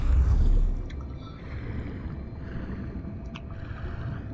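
Water sloshes and splashes steadily as a character swims in Far Cry 5, with a louder splash at the start.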